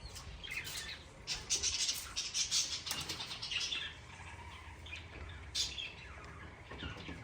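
Parrots in a cage chattering and squawking after their water is refreshed, with bursts of wing flapping and bright chirps, fairly close and lively, no talk.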